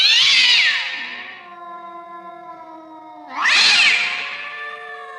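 A black cat gives two long, loud, wavering meows close by with a quiet pause between them.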